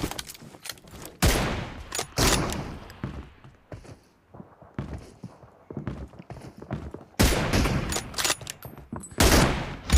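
PUBG Mobile gunfire crackles in a string of sharp, loud shots and short bursts, spaced irregularly with brief quieter gaps between them.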